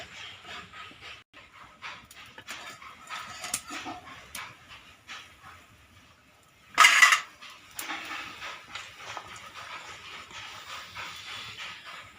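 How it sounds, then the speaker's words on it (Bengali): A lid goes onto a cooking pot of Sindhi kadhi with one short, bright metallic clatter, set against a steady sizzling hiss from the pot. "এবার দিয়ে দেবো ঢাকনাটা।"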